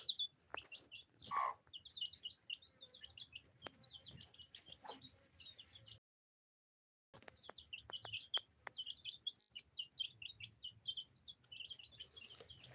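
Chickens and other birds on a small poultry farm, busy clucking and chirping calls overlapping at close to middle distance, with a brief silent gap partway through.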